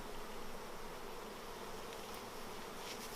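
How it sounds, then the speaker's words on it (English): Honey bees swarm around an opened hive, a dense, steady buzzing drone that fills the space, close and continuous without pauses. "up there, Dave, so you can see all that brood that's going to be hatching out to replace these bees"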